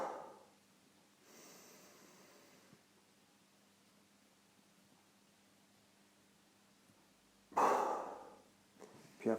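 A person doing a calming breathing exercise releases a held breath all at once, a short forceful exhalation heard close and alone, preceded by a faint longer breath and followed by another brief puff.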